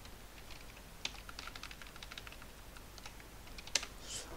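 Quiet, steady typing on a computer keyboard, soft rapid key taps with a couple of sharper clacks, no voices.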